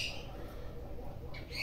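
A coucal (burung bubut) gives a short, hoarse squawking call, heard nearby in two brief bursts at the start and end.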